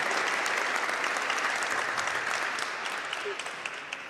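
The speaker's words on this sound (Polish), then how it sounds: "Wielkie brawa" An award ceremony audience applauds a "Debut of the Year" win with steady, dense clapping that fills the hall, holding strong throughout and easing slightly toward the end.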